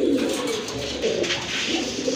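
A flock of selected pigeons coos loudly and continuously at close range, several birds overlapping in a dense, steady rumble.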